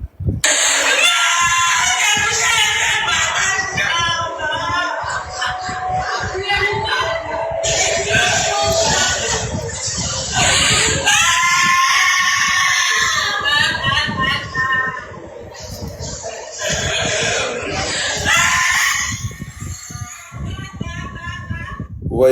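A woman wails and screams in grief at a funeral for a young customs officer, her cries loud and sustained over a murmuring crowd, with other voices and shuffling around her.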